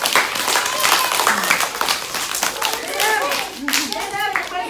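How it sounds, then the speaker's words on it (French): An audience claps vigorously at a live show after an act is announced, with sharp individual hand claps over a steady wash of applause and a voice and other speech heard briefly. "je vous demande d'applaudir très fort le rêve volant"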